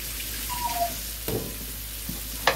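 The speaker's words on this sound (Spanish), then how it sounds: "Primero tiene que sotear un poquito la cebolla" Onion sautéing in a pan for fried chicken steaks, giving a soft, steady sizzle close by, with a few faint clinks and stirring scrapes on top.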